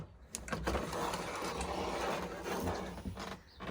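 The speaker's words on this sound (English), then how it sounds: "I'm just going to pop the carriage back on" Knitting machine carriage fitted back onto its bed, a short mechanical sliding and clattering with a few small clicks, quiet and close with no talk.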